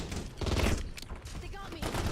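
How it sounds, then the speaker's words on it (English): Gunfire crackles in a Black Ops battle royale match, a loud, dense burst of overlapping shots that swells in the first second and keeps rattling underneath, with a voice talking over it. "Are they shooting at me or are they just shooting?"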